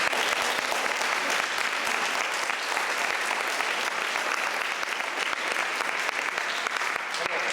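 A church congregation applauds in steady, dense clapping that keeps going without a break, with a few voices rising through it.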